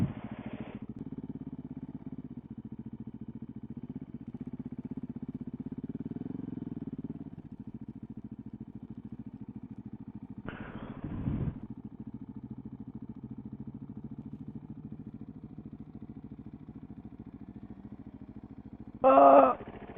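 A motorcycle engine idles steadily at moderate distance, with a low rumble broken by a couple of brief revs or clunks and a short sharp burst near the end; no speech.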